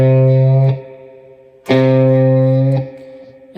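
Distorted electric guitar holds a minor third with a slight micro bend, two sustained notes each ringing about a second before cutting off, played alone.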